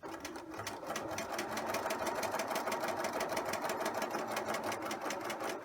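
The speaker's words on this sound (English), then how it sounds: "Continue edge stitching." Sewing machine edge stitching around a square pocket, a steady fast needle rattle running continuously at close range with no talk.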